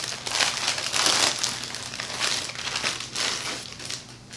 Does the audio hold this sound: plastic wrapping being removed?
yes